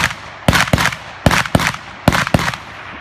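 Shotgun blasts at an NRA Shotgun League range, six sharp reports arriving in three closely spaced pairs, loud and near, with a busy outdoor background between shots.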